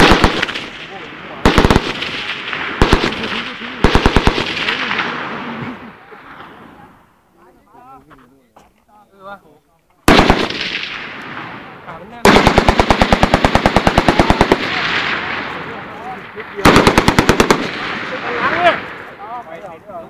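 An M60 machine gun fires several loud, close bursts of rapid shots with a quiet gap in the middle. Voices speak between the bursts.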